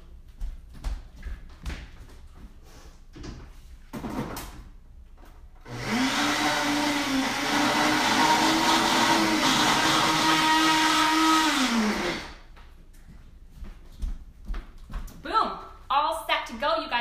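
A Ninja blender whirs loudly for about six seconds, blending a ginger soy marinade, with a steady high motor roar that starts and stops abruptly; talk is heard before and after.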